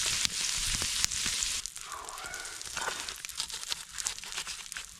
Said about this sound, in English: frying in a little butter and oil